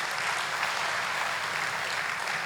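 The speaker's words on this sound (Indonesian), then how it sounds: "Berikan tepuk tangan buat Tuhan Yesus." A church congregation at a sermon on the resurrection of Jesus claps steadily together, an even, continuous wash of applause with no voices over it.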